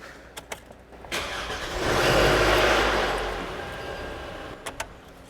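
A Toyota engine that is low on oil cranks and fires up close by, swelling into a loud rough run before easing back, with a few sharp clicks before and after.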